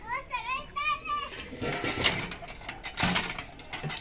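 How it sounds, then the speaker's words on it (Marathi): An old borewell pump runs with a steady mechanical whirring and rattling. Children's voices chatter over it at first, then the pump noise continues on its own. "चालू आहे बोर"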